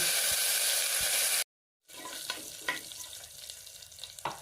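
Crushed garlic and curry leaves fry in hot oil with mustard seeds and cumin for a Sankranti meal. A loud, close sizzle breaks off abruptly, then returns as a quieter crackle with scraping stirs.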